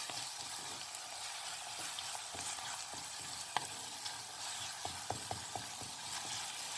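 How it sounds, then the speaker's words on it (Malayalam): Garlic sautés in a pan for prawn perattu, a steady soft sizzle with scattered clicks and taps as it is stirred. "ഞാനതിലേക്ക് വെളുത്തുള്ളി ചേർത്ത് കൊടുത്തിട്ടുണ്ട്. അതൊന്ന് നന്നായിട്ടൊന്ന് വഴറ്റി കൊടുക്കാം."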